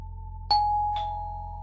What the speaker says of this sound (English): her doorbell was going off